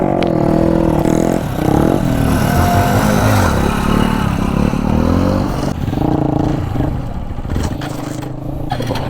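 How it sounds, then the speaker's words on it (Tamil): A motorcycle revs hard during wheelie practice, its engine loud and close for the whole stretch, rising and falling with repeated bursts of throttle and some scraping clatter. "அடுத்தடுத்து ஆக்சிலேஷன் கொடுக்கும்போது வண்டி போகும், வந்துடும்."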